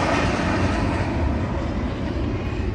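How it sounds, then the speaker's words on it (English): Airplane at an airport roaring overhead as a broad, steady, loud engine rumble that fills the whole clip with no voices. "we got interrupted by a plane at the airport"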